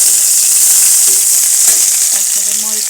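Onions hit hot mustard oil in a pan, giving a continuous bright sizzle and crackle that holds steady throughout, close and fairly loud, with no talking.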